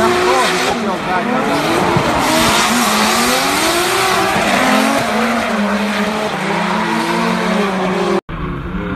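A drift taxi car slides through a drift, its engine revving in loud rising and falling sweeps over continuous tire squeal, close and steady until it cuts off abruptly near the end.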